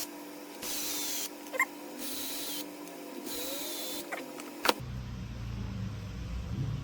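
A power driver whirs in three short bursts, with faint clicks between them, while bolts come out of the wheelie bar on a two-wheel-drive Traxxas RC car. It ends in a rustling clatter.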